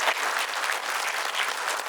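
Audience at a government housing programme event gives a thunderous round of applause, many hands clapping in a dense, steady patter that holds without pause.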